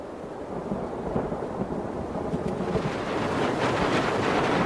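A thunderstorm in the Amazon rainforest brings long-awaited rain after lightning, with a deep rolling thunder rumble and a dense rain hiss that swells louder over nearly five seconds, with no speech.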